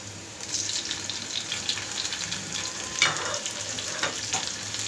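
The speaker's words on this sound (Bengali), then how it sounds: "পেঁয়াজটাকে কিছুক্ষণ ভেজে নেব। এর সাথে আমি অ্যাড করছি মিডিয়াম সাইজের একটা" Onion and medium-sized tomato frying in a pan, a steady, fairly quiet sizzle with occasional brief stirring scrapes, heard alone without talk.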